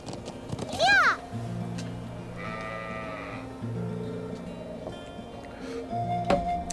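Sheep bleating in the video game Trails of Cold Steel, one loud, wavering bleat near the start followed by a fainter one, set against steady game music and background ambience.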